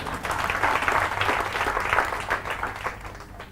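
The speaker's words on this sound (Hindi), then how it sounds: "तो इनके लिए तालियां बजाओ एक बार।" An audience at a motivational sales seminar bursts into steady applause, a continuous wash of many hands clapping that carries on for several seconds and tapers off slightly toward the end.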